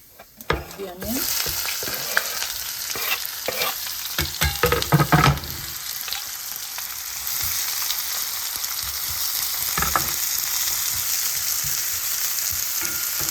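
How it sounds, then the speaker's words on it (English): Onions frying in hot oil with cumin seeds, a loud continuous sizzle with a burst of clattering stirring strokes early on, then a steady crackling fry. "Just stir it up a bit, and then let them cook a little till they get a little soft."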